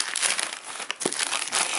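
Thin plastic packaging bag crinkles and rustles continuously at close range while a Xiaomi Mi5 32GB phone is unboxed, with no talk over it.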